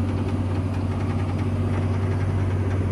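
A reprogrammed farm tractor engine idles steadily at close range, a low, constant diesel rumble with a smooth even drone and no speech.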